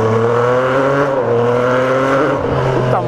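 A Yamaha MT-09 three-cylinder 850cc motorcycle engine revs loud and close, with steady rising and falling harmonic tones under continuous throttle and a brief rev change near the end.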